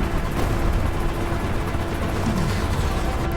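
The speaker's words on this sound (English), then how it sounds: "3 missiles being fired." Missiles launch from a patrol vessel in an island-capture video game match, a dense, continuous rumble of firing and blasts with no clear breaks between shots.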